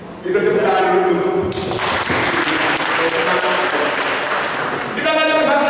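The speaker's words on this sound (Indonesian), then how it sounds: "Kita tepuk tangan dulu." A church congregation claps together at a sermon, steady dense applause that swells after a couple of seconds and holds, with voices audible over the clapping near the start and end.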